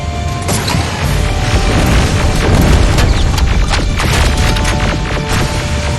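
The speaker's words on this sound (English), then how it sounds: "Rockets!" Loud, dense booms and crashing blasts from rockets exploding in the shooter game Terminator Resistance, a continuous barrage of impacts and debris over about six seconds with no pause.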